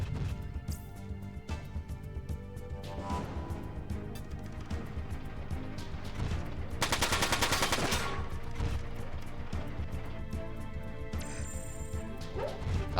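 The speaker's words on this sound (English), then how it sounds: "Keep shooting the tank." Gunfire aimed at a tank in the mech game Front Mission 4: dense, steady volleys and crashing impacts fill the whole stretch, with a louder burst of rapid shots near the middle and no talking.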